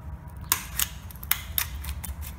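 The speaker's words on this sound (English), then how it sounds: "So this is a ring compressor. I'm going to put it around." Sharp metallic clicks and ratchet snaps come in quick, uneven succession as a piston ring compressor is adjusted during a 1956 Ford 640 tractor engine rebuild, close and crisp over a low background hum.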